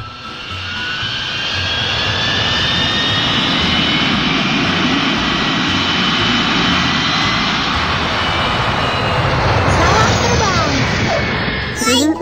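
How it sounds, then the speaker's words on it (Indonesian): A jet airplane takes off in a children's educational cartoon game, a steady loud roar with high whine building over about twelve seconds and a rising sweep near the end. "Barang-barang juga dinaikkan ke atas pesawat. Luar biasa, kita berangkat."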